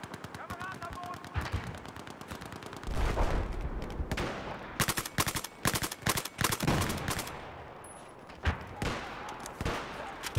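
Rifle fire in the video game Battlefield 4 comes in bursts and single shots, some close and sharp, others quieter, set over a busy battle background.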